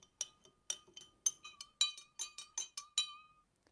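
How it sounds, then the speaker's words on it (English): A spoon stirs sugar water in a glass, clinking against the sides about ten times in a quick, regular rhythm, each tap bright and ringing, close and alone. "Stir it so that the sugar dissolves nicely in the water."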